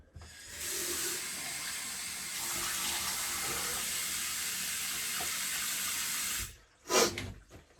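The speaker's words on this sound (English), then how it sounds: "We'll just rinse off the alum" A bathroom tap runs in a steady, even hiss for rinsing alum off a freshly shaved face, then shuts off, followed by a brief splash or clatter.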